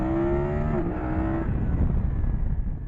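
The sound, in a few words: BMW F900 GS motorcycle accelerating in first gear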